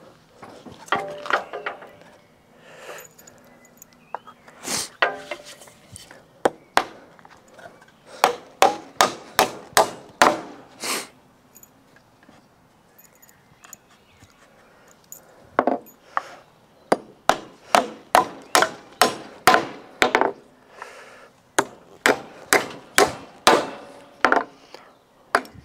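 Hammer blows strike a hardwood wedge at a sawmill, sharp loud knocks in quick bursts of several strikes separated by short pauses, close and without talk.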